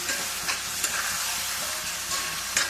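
Marinated mutton sizzling in a pan with onion and garlic for Bengali kosha mangsho, a steady frying hiss with occasional soft scrapes of stirring, moderately close.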